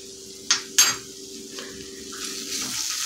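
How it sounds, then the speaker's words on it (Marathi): Kashmiri chili powder sizzling in hot oil for a Hyderabadi mixed dal tadka, with two sharp clinks of a spoon against the pan, then a steady, close frying hiss as it is stirred. "मिरची पावडर छान परतून घ्यायची आहे आपल्याला"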